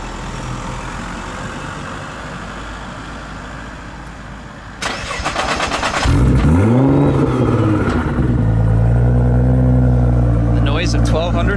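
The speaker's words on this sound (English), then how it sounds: "The noise of 1200 horsepower." A 1200-horsepower Nissan GT-R cranks and fires up, close and loud, then settles into a deep rumbling idle with rising and falling revs.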